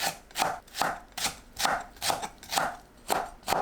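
A knife slices onion and green onion into 0.5 cm pieces on a cutting board, giving steady rhythmic chops, about eight strokes in a regular beat, close and clear with no talking.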